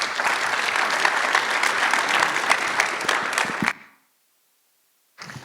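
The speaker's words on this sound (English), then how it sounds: "Round of applause for our panelists, please." Audience applause for panelists at a blockchain conference panel, a dense, loud burst of many hands clapping that holds steady for over three seconds, cuts off into silence, then briefly resumes at the end.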